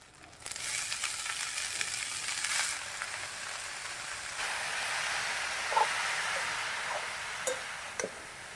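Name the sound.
radish greens frying in a pan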